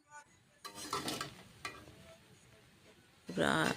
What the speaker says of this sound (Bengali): আলতো হাতে হালকা হালকাভাবে নেড়ে নিতে হবে নাড়িয়ে চাড়িয়ে নিতে হবে মিক্স করে নিতে হবে